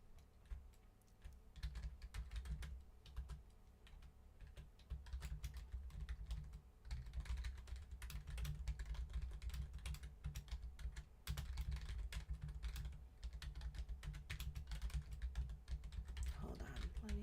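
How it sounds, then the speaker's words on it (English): Fast typing on a computer keyboard, a continuous irregular patter of key clicks with short pauses, close and fairly quiet, running for the whole stretch with no talk over it. "Hold on, let me type."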